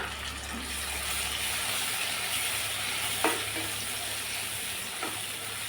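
Chopped medium tomato sautéing in hot oil with asafoetida for jowar khichdi, a steady close sizzle throughout with a couple of brief stirring clinks.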